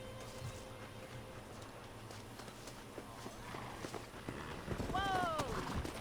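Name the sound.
galloping wild horses in the video game Red Dead Redemption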